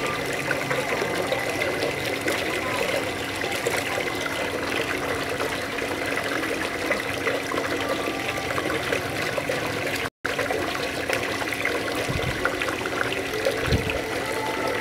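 Water pours and trickles steadily over a caladium plant during washing, a continuous splashing stream held at an even level for about fifteen seconds, near and fairly loud, with a couple of soft knocks near the end.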